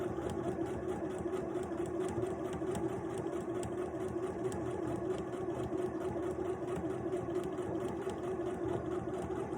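A sewing machine stitches fabric while making a simple baby blanket, a steady, faint mechanical hum and whir that runs unbroken with no talk.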